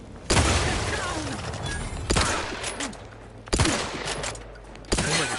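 Four heavy, booming shotgun blasts in a sci-fi role-playing game, The Outer Worlds 2, spaced about a second and a half apart, each followed by a ringing decay and scattered debris clatter.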